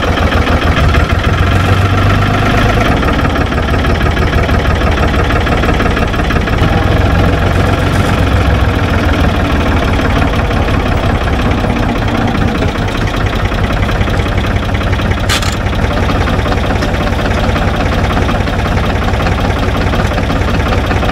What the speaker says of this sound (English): I'll drop the link box off the tractor and then reverse it in, see how tight it is